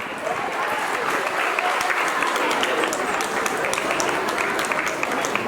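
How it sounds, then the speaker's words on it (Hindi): Loud, sustained crowd applause at a senior citizens' honour ceremony, thick continuous clapping from many hands at a steady level throughout. "एक बार आपकी जोरदार तालियां।"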